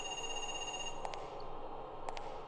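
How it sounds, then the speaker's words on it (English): A telephone rings in the video game Parasite Eve 2, two short double bursts of ringing about a second apart over a steady humming background. "Something scurrying away from the phone and the phone ringing."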